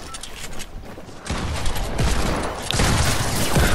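Sustained gunfire in a Fortnite match: a dense, continuous barrage of shots with sharp individual cracks, growing louder and closer over the last couple of seconds.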